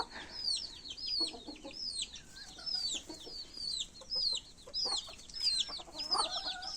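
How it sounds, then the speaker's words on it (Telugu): Native country chickens on a small farm cluck and chirp steadily with high peeping from young chicks mixed in, a busy, fairly faint flock chorus with no talking. "ఇవైతే ఫార్టీ ఫైవ్ డేస్ చిక్స్"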